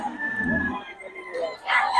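A young stag gamecock at a rooster sale gives a short, fairly close crow that is over within about two seconds.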